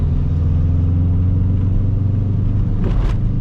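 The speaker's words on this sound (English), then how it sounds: "Gotta slow down. One lane bridge, slowing down, downshifting" A high-mileage Subaru Bugeye engine hums steadily from inside the car, a low droning rumble that shifts slightly as the driver slows and downshifts, with a short mechanical clunk near the end.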